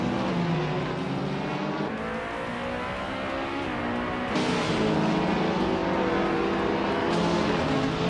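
A 2010 Peugeot RCZ race car in a racing video game, its engine droning loud and steady with rising pitch and abrupt shifts as it revs through gears, with no talk.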